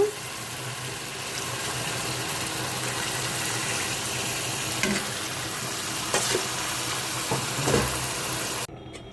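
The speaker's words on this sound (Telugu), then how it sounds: "ఇప్పుడు చింతపండు పులుసు వేసుకుందాము" Tamarind extract pours into a simmering pan of Godavari-style pulasa fish curry, giving a continuous bubbling, sizzling wash that runs unbroken and stops abruptly near the end.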